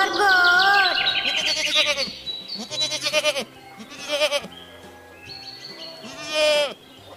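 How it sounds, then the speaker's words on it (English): A goat bleats several times in loud, wavering, close cries separated by short gaps, with a high chirping tone alongside. "G for goat"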